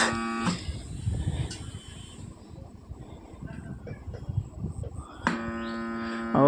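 A faulty Mania stand fan motor gives off a low electrical hum and buzz beneath faint rattling, with brief tonal bursts at the start and end, close and moderately loud.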